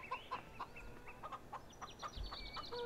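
Chickens in the Farming Simulator 15 video game cluck in a steady run of short, bright calls, moderately close over a constant background hum, with no talking.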